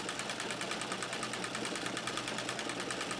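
A White Rotary treadle sewing machine doing free-motion quilting with dark green thread: a close, steady, fast stitching rhythm that runs continuously without talk.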